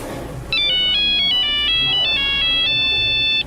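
A mobile phone ringtone plays a loud, bright repeating electronic melody for about three seconds within a Doctor Who audio drama scene, starting abruptly and cutting off at the end.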